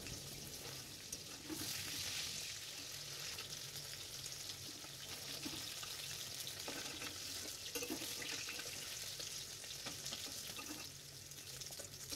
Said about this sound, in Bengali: তেল ভালোভাবে গরম হয়ে গেলে তাতে মাছগুলো দিয়ে দেবো, আর মাছ যেভাবে ভাজে সেভাবেই ভেজে নেব।